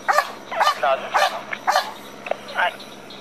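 A police dog barks repeatedly in sharp bursts, close and loud, during an arrest of a reckless driving suspect, with faint background hum between barks.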